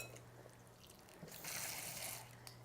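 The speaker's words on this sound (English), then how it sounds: "put a wee bit of water" Water from a tap trickles into a bowl of diced pumpkin, a steady light pouring splash rising in the middle of the pour, close and fairly quiet over a low kitchen hum.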